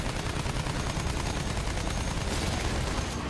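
Special rockets fired at bombers in Battlefield 1 in a dense, continuous barrage of gunfire and explosive blasts, loud and unbroken for the whole stretch.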